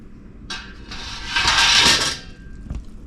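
A metal spatula scrapes and clanks against a canning rack being lifted out of a pot while canning peaches, a loud metallic rasp swelling in the middle followed by a sharp clink, close by with no talking.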